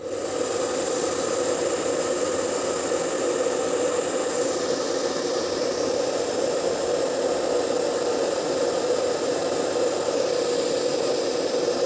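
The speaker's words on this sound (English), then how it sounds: "I am using hair dryer because when the hair dryer blows hot air, the temperature will also increase" A hair dryer blows hot air onto a temperature sensor, giving a steady, continuous whooshing hum of motor and airflow that holds evenly at moderate loudness without pause.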